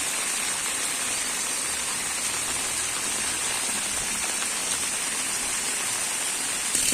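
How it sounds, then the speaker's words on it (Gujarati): Rain pouring down in Jetpur town, Rajkot district, a steady moderate hiss of drops striking surfaces, even and continuous throughout with no talking. "જે વરસાદ જે વરસી રહ્યો છે"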